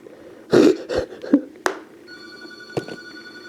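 A house telephone rings in a room with a few sharp bell-like rings and clicks, followed by a steadier electronic tone, with no one talking over it.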